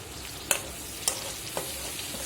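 Onions frying in a pan give a constant soft sizzle, broken by three sharp scraping knocks as a spoon stirs them, close and without talk.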